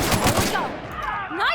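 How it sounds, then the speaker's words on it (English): Gunfire in The Outer Worlds, a rapid close burst of loud shots in the first half-second, then ringing tails, with voices talking faintly afterward. "I'm trying to shoot you."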